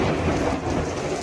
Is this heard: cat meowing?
no